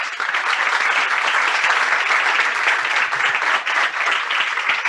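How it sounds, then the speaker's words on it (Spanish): Steady audience applause rings out for two speakers at the close of a webinar session. It is a dense, continuous wash of many hands clapping at even loudness for several seconds, heard alone. "un aplauso para ambos"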